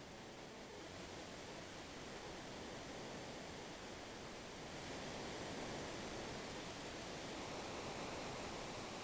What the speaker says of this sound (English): it looks like we're gonna take a big jump off of a waterfall here